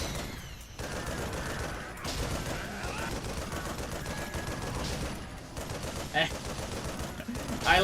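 Rapid bursts of gunfire in the zombie shooter game Yakuza: Dead Souls crackle almost nonstop in dense, layered volleys, with brief lulls and a sharper burst near the end.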